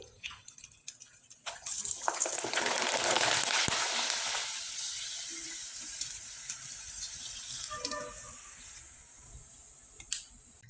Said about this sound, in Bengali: আমি আরেকটা পাপড় ভেজে দেখিয়ে দিচ্ছি